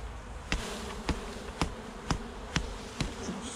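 Honeybees hum steadily around a hive in a garden apiary, a close, continuous buzz broken by sharp periodic clicks.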